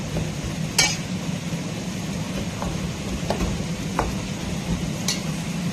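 Peanuts being stirred for groundnut laddu, giving soft continuous scraping and rustling with a few sharp clicks over a steady low background hum.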